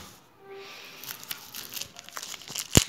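An envelope holding an Italian-occupation Albanian 1940 100 franga banknote is torn open, giving scattered crinkles and rustles of paper that build to one sharp tear near the end.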